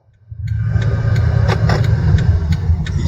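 A car engine runs steadily in second gear while building speed on the approach to a highway, a continuous low rumble that holds loud throughout with a few brief higher clicks over it.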